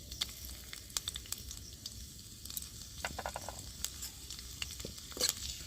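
Black cumin seeds and chopped garlic sizzling in hot oil, a soft continuous crackle broken by sharp pops and light stirring clicks, close and fairly quiet.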